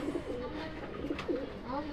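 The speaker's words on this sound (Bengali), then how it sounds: "তো দেখেন উপরের কবুতরটা কত পাজি, ও আমাকে কামড় দিচ্ছে গাইস" A pigeon coos softly in short, low bursts while held in the hand and pecking, with faint handling rustle and quiet background noise throughout.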